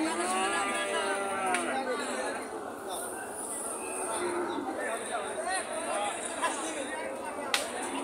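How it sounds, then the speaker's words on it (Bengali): A large Australian and Sahiwal cross calf moos at a cattle market, its deep calls rising over steady crowd chatter and background noise. "এইখানে একটি দেখতে পাচ্ছি বিশাল আকৃতির বাছুর"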